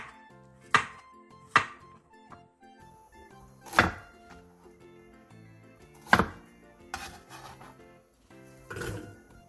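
Knife slicing zucchini into rounds on a cutting board, a handful of sharp, close chops spaced irregularly with quiet kitchen handling noise between them.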